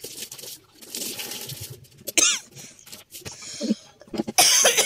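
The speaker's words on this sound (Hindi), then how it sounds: "सॉरी, मेरे को खांसी भी हुई हुई," Coughing from a woman with a sore throat while cleaning in a home kitchen, heard as several short, harsh bursts spread through the clip amid light household clatter.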